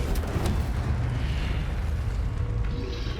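Incendio fire spell cast in Hogwarts Legacy, a loud, dense roaring burst of flame with a rumbling low end that continues steadily for a few seconds.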